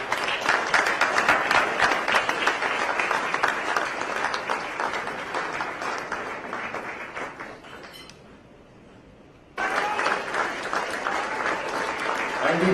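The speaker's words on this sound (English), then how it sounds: "A big round of applause and thank you very much for being here" A large audience applauds loudly and steadily to welcome royal guests onto a stage at a speech event. The clapping drops away for a moment of near-quiet, then swells back to full strength.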